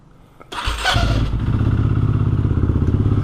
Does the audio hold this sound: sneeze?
no